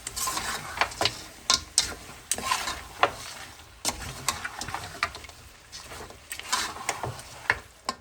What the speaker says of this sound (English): And now you want to give everything a really good mix.